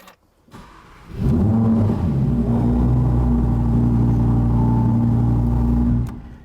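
An Audi R8 engine cranks and fires up, then settles into a loud, steady, deep rumbling idle close by before cutting off near the end.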